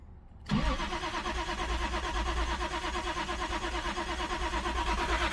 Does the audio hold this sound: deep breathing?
no